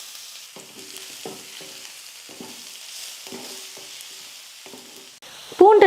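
Garlic sautés quietly in a pan after lentils have been roasted, a soft low hiss under repeated scraping strokes of a stirring spoon, ending in a sudden louder clatter.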